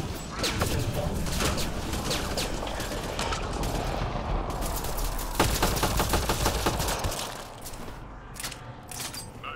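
Gunfire in the video game Mass Effect Andromeda: dense, sustained bursts of rapid shots with crashing impacts, loud and continuous throughout with no talking.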